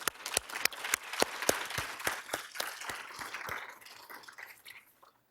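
Audience applause at an International Women's Day event on gender equality, a dense patter of many hands with sharp individual claps standing out, moderately loud and tapering away to silence by the end.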